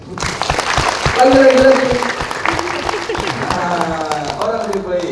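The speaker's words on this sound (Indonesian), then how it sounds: "Coba Bapak Ibu tepuk tangan untuk saya." An audience breaks into applause at a talk, a crowd's clapping swelling loudly and then thinning out, while a voice calls out briefly over it.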